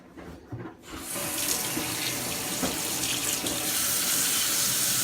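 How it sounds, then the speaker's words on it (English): Hands are rinsed under a running sink tap, the water starting after a brief moment of quiet and then pouring steadily and loudly, close by. "So go here, rinse your hands."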